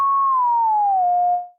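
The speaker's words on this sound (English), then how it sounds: "a second oscillator, which we can hear right now, which is just a sine wave" A pure sine-wave tone from a second oscillator in the Alchemy synthesizer holds steady, then glides slightly lower and fades out, clean and loud with no other sounds.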